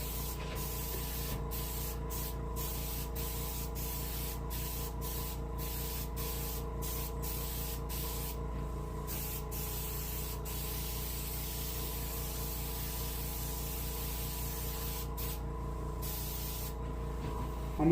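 A steady airbrush hiss runs continuously as paint is sprayed onto a brook trout mount for taxidermy, close and even, with a faint rhythmic mechanical pulse underneath.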